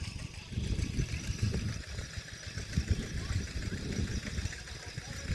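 A small farm tractor engine in a rice field chugs steadily at a low, rumbling idle, fairly close, with a constant rattly drone throughout.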